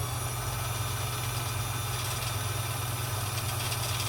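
A Kenmore 158.1400 sewing machine winds thread onto its bobbin with a steady, even motor whir and hum that holds at one pitch, close and unbroken throughout.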